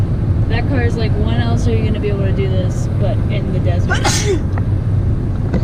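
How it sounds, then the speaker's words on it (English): A single sneeze bursts out in the middle of a conversation in the desert, over a steady background rumble of a car or engine. "That sneeze was the most action this desert has seen."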